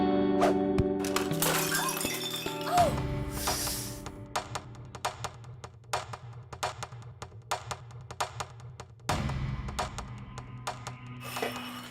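A tray of food and drinks crashes down as someone trips and falls, giving a sharp clatter and breaking sounds at first, then a scatter of small taps and knocks as things settle.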